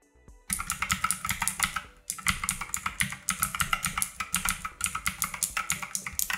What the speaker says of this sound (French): si vous appréciez les cliquetis que font les touches à chaque frappe